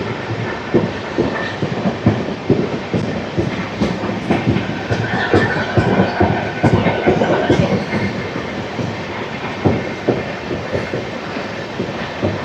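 Venkatadri Superfast Express train running at speed, a loud, continuous rumble of wheels and carriages with rhythmic rail clatter, heard from on board.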